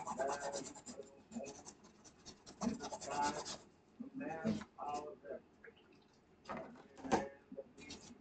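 Rust being scrubbed off a vintage drum kit's floor tom, heard as close, intermittent bursts of rough scraping and rubbing strokes separated by short pauses, with a voice speaking at times.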